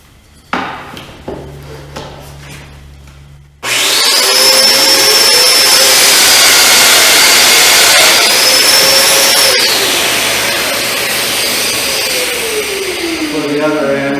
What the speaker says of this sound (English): So we'll use the domino